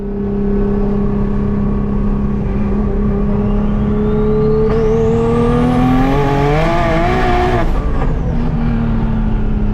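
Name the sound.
big turbo Nissan Z car accelerating on the street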